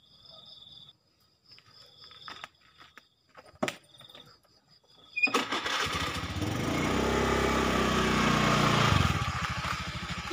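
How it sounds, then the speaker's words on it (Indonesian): A motorcycle approaches and passes close by outdoors at night, its engine rising from quiet insect chirps into a loud, sustained roar before easing off. "Dan jika seandainya ada motor lewat, apakah dia juga akan menyala atau tidak?"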